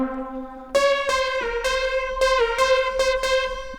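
Lead synthesizer patch made with DRC, processed through mono, delay and reverb effects: bright buzzy notes start after a held low tone, then plucked stabs repeat in a rhythmic pattern with echoing tails, loud and alone.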